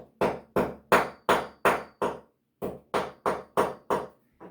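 Drill bit tapping raised drywall flat around a screw hole on a wall: two bursts of sharp, evenly spaced knocks, six then six, close and loud with a short pause between.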